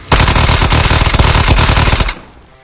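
Automatic gunfire from a weapon with heavy recoil in the VR shooter Ghosts of Tabor: one loud, sustained rapid burst of about two seconds that stops abruptly, with no talking.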